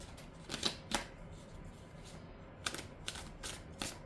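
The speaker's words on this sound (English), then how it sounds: "So, need to shuffle these." Faint, quick riffling and snapping of tarot cards being shuffled, in short bursts with pauses between, close by and quiet.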